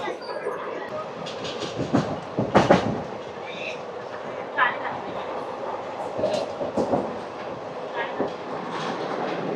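The 17479 Puri Tirupati Express rolls along in steady motion, a constant rumbling rattle punctuated by sharp clickety-clack wheel beats over rail joints, heard from inside the train.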